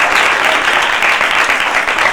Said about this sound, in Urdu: خوش ہوتے ہوئے زوردار تالیاں جاؤ